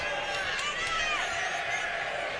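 Boxing arena crowd at a boxing fight, a steady roar of cheering spectators under a commentator's voice, with a few sharp thumps rising above the din.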